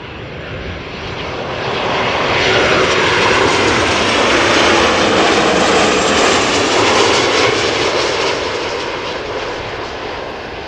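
A plane passing close by while landing on runway 06 at Amsterdam Schiphol Airport, a loud broad engine roar that swells over a few seconds, holds, then fades.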